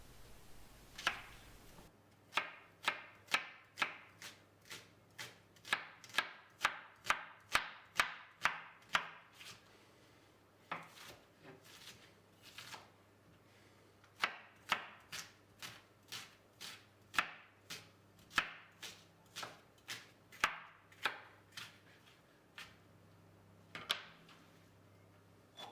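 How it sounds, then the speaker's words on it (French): A sharp knife finely slices fresh white onions on a board, a long run of crisp, evenly spaced chops with brief pauses between bursts, close and clear. "Ces oignons blancs frais, vous allez les émincer finement."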